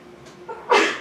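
A single sneeze in a classroom during a philosophy lecture, a quick inhale followed by a sharp, fairly close burst.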